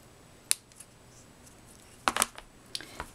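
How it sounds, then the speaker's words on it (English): Scissors snipping card paper during card making, a few short crisp cuts, one isolated and then a quick cluster of snips, close and fairly quiet. "And then I'm going to trim so that it's even."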